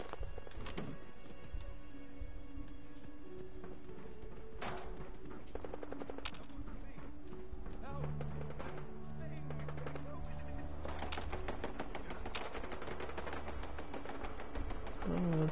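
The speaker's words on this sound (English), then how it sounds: "Gunshots." Gunfire from the video game Fallout 4 rings out as scattered sharp shots and thumps over game sounds, mixed with intermittent talk.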